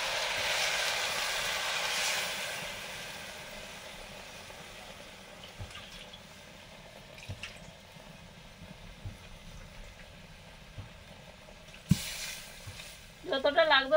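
Water and mustard paste are added to fried mourala fish in a pan, bringing steady, close sizzling and stirring with a few light clinks, then a louder burst near the end.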